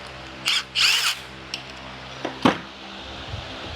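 Power tool tightening bolts during a manual-to-automatic 8HP transmission swap on a Nissan R33 GTR / Stagea; two short close bursts of whirring, then quiet clinks and a sharp metallic knock, no talk.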